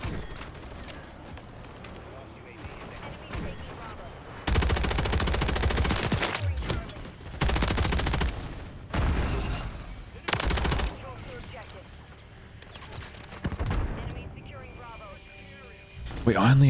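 AMR9 submachine gun fire in Modern Warfare 3 sounds as several loud, dense automatic bursts of a few seconds each, separated by quieter game ambience and a player talking.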